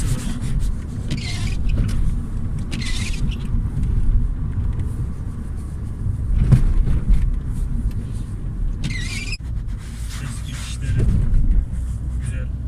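Cabin of a 2000 Peugeot 1.6 (120 hp) with an open air filter while driving: steady low engine and road rumble throughout, with a few brief higher whirs and rattles, and no talk.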